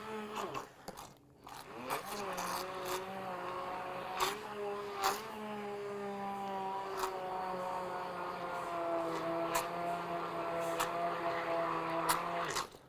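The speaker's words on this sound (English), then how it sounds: "as we push down on these ingredients, we increase the speed of the immersion blender" A Vitamix 625-watt stainless steel immersion blender whirs through smoothie ingredients, a steady loud motor whine that shifts pitch as the speed rises and the blade is pushed down into the mix, with brief clunks along the way.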